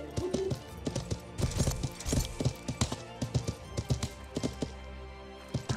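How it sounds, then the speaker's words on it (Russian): Horse hooves clip-clopping in a video game, an irregular run of hollow knocking footfalls at close range, moderately loud, with no talk over them. "Ребекка на белой лошади в чешуйке подъезжает."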